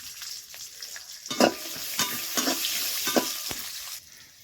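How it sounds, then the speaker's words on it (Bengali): Peanuts fry in sunflower oil in a pan, a soft sizzle broken by sharp scraping and clattering stir strokes that come every second or so, close and fairly quiet. "এই বাদামটা তেলের মধ্যে দিয়ে আগে আমি একটু ভেজে নেব"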